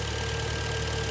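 The engine of a 2012 Hyundai Tucson runs steadily at idle after a thermostat replacement, giving a close, even hum with a faint rhythmic knock.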